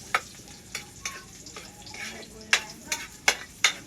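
Pulutan frying in a pan with steady sizzling, punctuated by several sharp clicks and scrapes of stirring, close and moderately loud.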